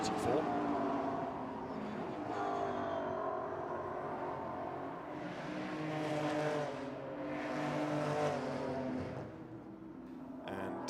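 GT4 race cars at Jeddah coming out of a corner during qualifying, engines revving and swelling as they pass at a distance beneath continuous commentary.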